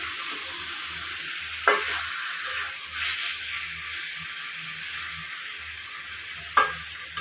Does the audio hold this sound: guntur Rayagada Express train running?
no